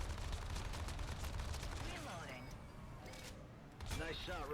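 Rapid weapon fire in the Ace Combat flight game, a dense stream of shots that carries on under game voices.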